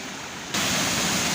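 Rainwater rushes hard after a downpour, starting as a softer wash and then jumping abruptly to a loud, steady roaring gush like a small waterfall, with no voices.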